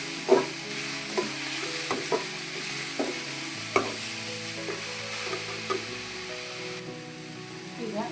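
Tomatoes and onions with salt sizzle steadily in a pan over a medium flame for a samosa filling, with occasional stirring scrapes.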